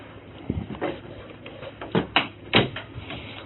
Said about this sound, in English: You can push that door too.